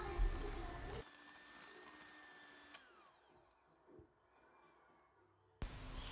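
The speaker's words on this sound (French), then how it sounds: "On va battre le tout rapidement au batteur pour que la pâte devienne homogène et lisse." An electric hand mixer beats cake batter for a steamed savane cake, giving a loud whirring motor burst at the start and another at the end, with a near-silent stretch between them.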